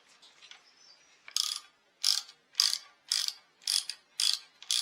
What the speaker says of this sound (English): set the torque wrench